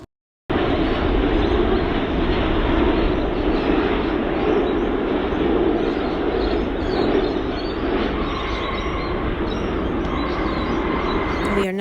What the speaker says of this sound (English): it is now time for landing.